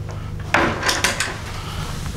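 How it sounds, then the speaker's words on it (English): A wooden drawer in a guest cabin aboard a 37 m steel-hulled motorsailer gulet slides and knocks shut, a couple of quick close scrapes and thuds against quiet room tone. "Drawers, plenty of drawers."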